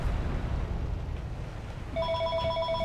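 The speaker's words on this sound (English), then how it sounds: "Oh, sorry about the phone call." A telephone rings in clear repeating bell-like trills that start partway through and sit over the steady drone of gunfire and engines from a War Thunder air battle with Japanese planes.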